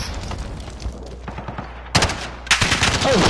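Gunfire in a Call of Duty video game, with busy shooting followed by two loud, sudden bursts of rapid automatic fire near the end, up close and dominant.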